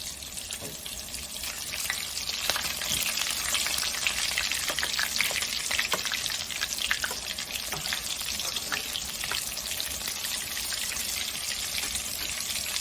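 Rice kofta sizzles steadily in hot oil in a pan as the pieces are turned, a constant close crackling hiss with small pops and occasional utensil scrapes, no talking.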